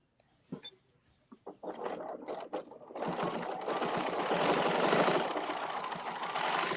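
A Bernina sewing machine fitted with a domestic ruler work foot quilts. A few soft handling taps come first, then the motor starts and runs in a steady, close, continuous whir.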